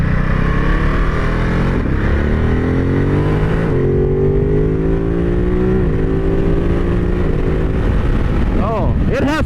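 A 2021 Ducati Monster 950 Plus motorcycle accelerating on the road, a loud close engine note climbing steadily through the revs with a gear change and rising pitch, with someone talking over it.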